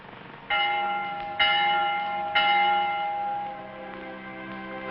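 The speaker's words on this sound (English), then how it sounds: "The Vespers bell." A church bell rings for vespers with three clear, resonant strikes about a second apart, each leaving a long humming decay that fades slowly, loud and close with no talking.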